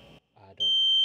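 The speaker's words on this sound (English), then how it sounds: "Just gonna press and hold it till I hear 6 beeps." A sharp, loud electronic beep from a Tesla Model 3 powered frunk control module begins and holds steady near the end, following a few brief spoken words.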